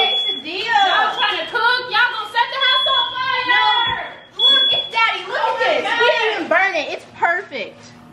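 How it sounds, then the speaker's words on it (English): A smoke detector sounds a steady, piercing tone while quesadillas cook in a home kitchen. The alarm is loud for the first few seconds, under excited chatter and laughter that goes on after it. "The smoke detector just went off"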